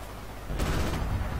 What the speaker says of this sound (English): I hear the Enfields behind our lines